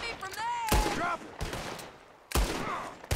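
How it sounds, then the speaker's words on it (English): Gunfire in Red Dead Redemption 2 at night, with sharp loud shots cracking out in a couple of bursts, one near the start of the second and another later, separated by quieter stretches and a voice in between. "I just saw gunfire"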